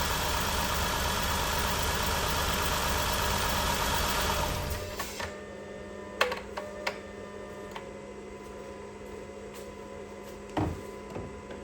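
A Chrysler Town & Country engine idles roughly with a cylinder 6 misfire, a steady close rumble for about four seconds before it shuts off, leaving quiet with a few scattered ticks and clicks.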